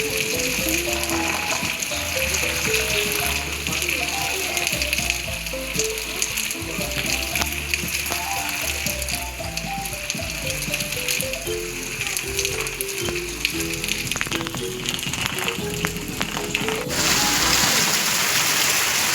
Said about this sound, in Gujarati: વરસાદ છે એ ફાસ્ટ આવવા માંડ્યો।